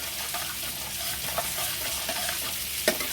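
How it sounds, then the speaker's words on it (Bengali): Spice paste with ginger paste being stirred and fried in a pan over raised heat, a close continuous sizzle with scraping stirs and a sharp clink near the end, no talk. "আর এদিকে দেখো আমি মশলাটা কষছি।"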